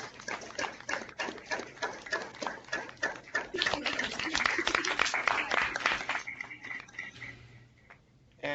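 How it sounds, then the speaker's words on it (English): Students from visiting schools applaud Pro Football Hall of Famer Fred Dean, a sustained round of clapping that swells and then fades over several seconds, with a voice cutting in at the end. "join me in saying thank you and giving a round of applause to Pro Football Hall of Famer, Mr."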